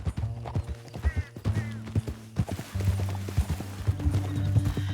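Rhythmic clip-clop of horse hooves trotting close by in the video game Red Dead Redemption 2, joined by a few brief whinnies and a low rumble underneath.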